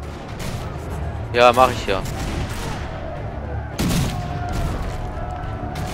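Ship cannon firing in the video game Risen 3: loud booming cannon blasts and crashing impacts rumble throughout, with someone speaking German briefly over the noise.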